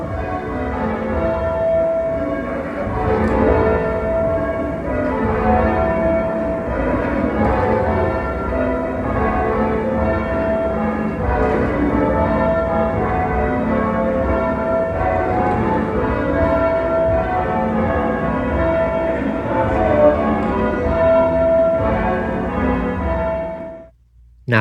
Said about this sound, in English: I was quite surprised at actually how quiet the bells were